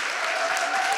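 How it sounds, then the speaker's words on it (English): A room at a village council meeting breaks into a short burst of clapping and cheering for the sheriff's office police commander, a dense, even patter lasting about a second. "give her a round of applause"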